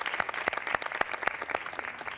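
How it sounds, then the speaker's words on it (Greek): A TV show audience gives singers a warm round of applause, a steady clatter of many hands clapping with a few sharper, distinct claps standing out over the brief stretch. "Ένα θερμό χειροκρότημα για τους τραγουδιστές μας."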